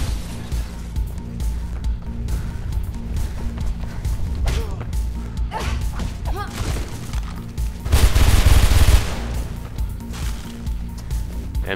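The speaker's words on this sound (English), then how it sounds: "there's like 10 dudes shooting at you" Enemy gunfire rattles through a tense Mirror's Edge firefight, a dense run of shots and impacts at moderate level with a louder burst near the end, layered over game ambience.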